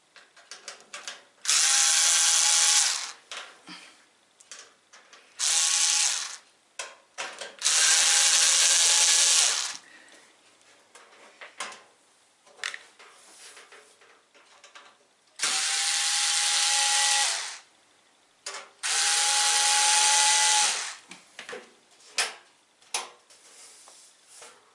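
Screws being undone on an electric heater with a power driver: several loud, whirring bursts of a few seconds each, separated by quieter clicks and handling noises, close by and with no talking.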